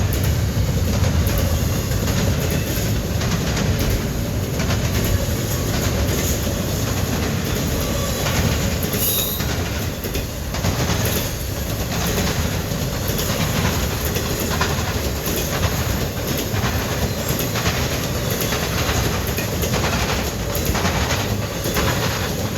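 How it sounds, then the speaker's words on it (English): An eastbound Norfolk Southern intermodal freight train rumbles steadily past on the tracks at Fostoria, Ohio, with a continuous loud low roar and rhythmic clacking of wheels throughout. "This must be train Q161."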